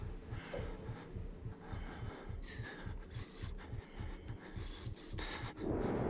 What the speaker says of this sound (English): I can kind of hear Mr. Upvote's heartbeat.